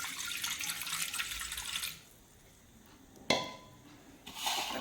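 Tap water running into a sink for soaking tamarind for panipuri, a steady close splashing stream that stops, then a brief clink and the flow starting again.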